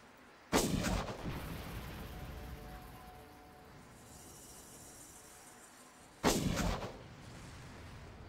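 Two heavy gun blasts in the video game Far Cry, each a loud booming burst that decays slowly, about six seconds apart over a constant noisy in-game background.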